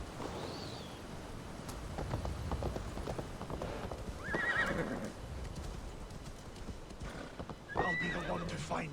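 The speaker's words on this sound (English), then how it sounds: "Is it just me or are there horses just everywhere?" Horses in the Assassin's Creed Valhalla video game: hooves clip-clop in a steady walking rhythm while several shrill whinnies ring out, one near the start, a louder one in the middle and another toward the end.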